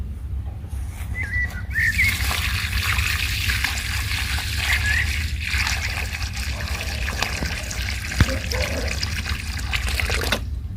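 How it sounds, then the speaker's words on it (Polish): Water poured onto a freshly planted rose seedling in garden soil, a steady close trickle and splash soaking into the earth, with faint birdsong in the background. "podlejemy sadzonkę w tym momencie"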